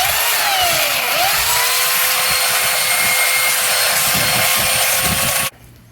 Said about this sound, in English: And the belt sander can do the same thing.